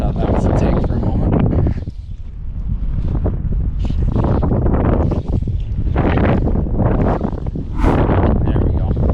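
Strong wind buffets the microphone at an inlet during fly fishing, loud close gusts that dip briefly before surging again throughout.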